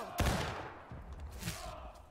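Rifle fire from a War of Rights battle, Civil War era muskets: a close sharp shot followed by a rolling volley and another crack, echoing at mid distance with no talk.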